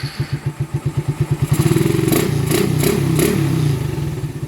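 Motorcycle engine fitted with a 28mm Keihin carburetor idles close by with an even, pulsing thump, then revs up into a sustained loud drone with mechanical clatter before easing off.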